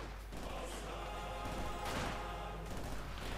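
Submachine gun fire from a Company of Heroes 2 battle, Wehrmacht against Soviet forces, rattling in dense bursts with a sharp crack near the middle, under a steady game soundscape and no speech.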